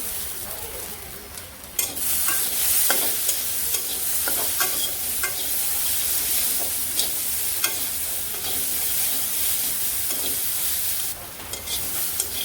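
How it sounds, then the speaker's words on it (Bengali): Potatoes sizzle in a hot pan with turmeric, coriander powder and salt while a spatula scrapes and stirs them in steady strokes, close and continuous, with no talk. "এই যে আলুটা ভালো করে একটু ভাজি ভাজি করে দিচ্ছি"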